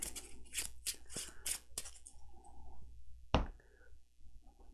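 Playing cards for the Arkham Horror card game riffle and snap in a series of quick, crisp bursts, followed by one sharper slap a moment later, all close and fairly quiet in an otherwise still room.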